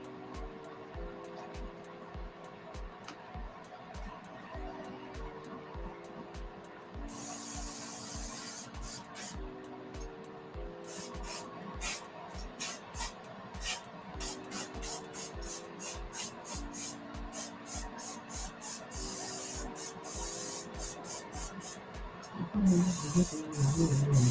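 Primer base coat sprayed in repeated hissing bursts, fairly faint, over steady background music with a rhythmic ticking pulse.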